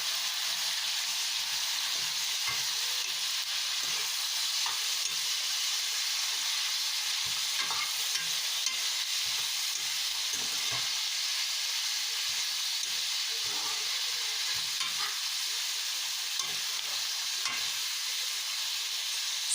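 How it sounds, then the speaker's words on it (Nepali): Green beans and potatoes frying in a pan, a constant bright hissing sizzle with steady spitting, close and even throughout, with soft stirring scrapes underneath. "आलु रातो भइसकेपछि मैले सिमी हालेर चलाउँदै पकाएँ।"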